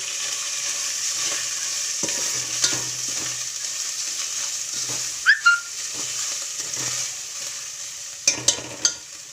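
Dried coconut sizzles in hot ghee with cardamom in a pan, a steady frying hiss close by, punctuated by a few sharp clinks and stirring scrapes.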